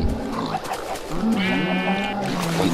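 Sheep bleat in the video game Minecraft, a couple of wavering bleats over a busy game soundscape, fairly close and clear.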